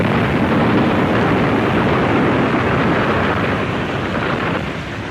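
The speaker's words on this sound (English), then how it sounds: "There was a loud explosion." A loud explosion sound effect for a dramatized underground scene in a rock shaft, a sustained deep roaring rumble that fills the clip and slowly eases off without any voice.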